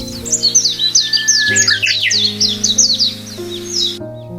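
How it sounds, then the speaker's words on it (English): Birds sing and chirp in quick repeated bursts over a steady low tonal drone, lively and fairly close. "birds sang in the top of the trees"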